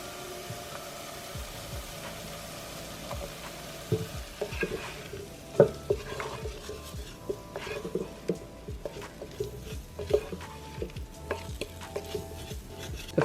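Flour stirred into melted butter and softened onions in a pot for broccoli cheddar soup, a gentle sizzle under scraping, irregular spoon strokes and occasional knocks against the pot.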